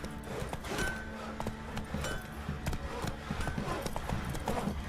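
The horse Roach gallops in The Witcher 3, a steady rapid clip-clop of hooves with faint game ambience and no speech, continuous and moderately loud throughout.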